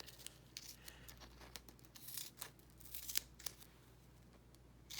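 Scissors cut a thin strip from adhesive-backed craft material in a series of soft, quick snips and crinkles, faint and close.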